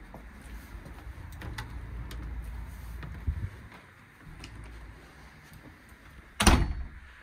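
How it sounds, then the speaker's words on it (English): A UPVC entrance door into a house near Bradford Road in Great Lever is opened, with soft handling clicks and rustles leading to a sharp, loud latch clunk near the end, close and without talk. "UPVC entrance door."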